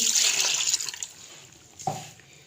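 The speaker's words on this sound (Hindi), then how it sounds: "इसके अंदर 1 गिलास मैं पानी का डाल दूँगी।" A glass of water poured into a pot of beef karahi, a bright rushing splash that fades after about a second, followed by a brief low thump near the end.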